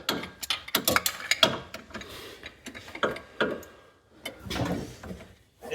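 A nut being threaded back onto the positive starter cable terminal of a Hemi 5.7 V8 Jeep Grand Cherokee: a run of sharp, close metallic clicks and ratcheting ticks in irregular bursts with short pauses, no talking.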